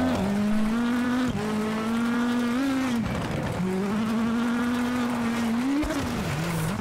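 Rally car engine in the WRC video game, driven on a punctured tyre on a dirt stage: a loud, continuous buzzing engine note that rises and dips with throttle changes, briefly cutting out twice between gear shifts.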